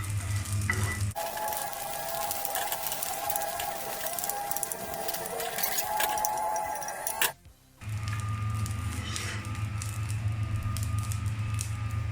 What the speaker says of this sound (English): I'm gonna fry the anchovies with the rest of the coconut oil